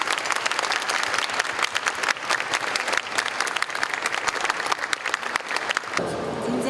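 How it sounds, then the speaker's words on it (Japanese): Warm, sustained applause from an audience at a Rare Disease Day event in Japan, many hands clapping steadily and densely for several seconds before it thins out near the end. "温かい大きな拍手をお願いいたします。"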